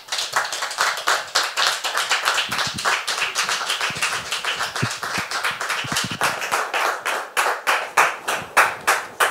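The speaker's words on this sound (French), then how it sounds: "je voudrais qu'on la reçoive, s'il vous plaît, sur vos applaudissements" An indoor television studio audience claps rhythmically in unison, a dense steady beat of close hand claps lasting several seconds with no talking over it.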